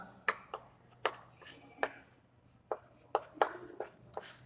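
Sharp, separate taps and scratches of chalk on a board, a handful of quick strokes spaced irregularly, fairly close, with faint background hum and a brief voice, during a math lesson on two-digit number problems.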